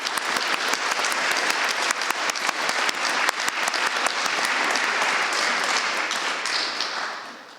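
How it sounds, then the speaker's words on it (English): A council meeting audience gives a round of applause, dense and loud with many hands clapping at once, holding steady before tapering off at the end. "if we could please have another round of applause for our fantastic year service"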